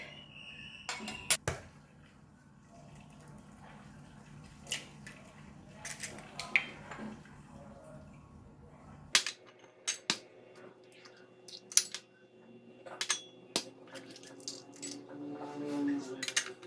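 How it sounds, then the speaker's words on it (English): Eggs cracked for a home stir-fry of French beans with eggs: a few sharp, brittle taps and clicks spread across a quiet kitchen, some close and crisp, others softer, with faint clinks of bowls in between. "So I'm going to crack the egg."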